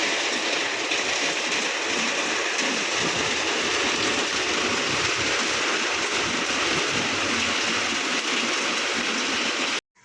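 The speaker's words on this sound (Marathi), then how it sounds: "बाहेर खूप मोठा पाऊस सुरू झालेला आहे" Heavy rain pours steadily outside a home, a dense, loud and unbroken wash of noise that continues evenly until it cuts off abruptly at the end, with no voices.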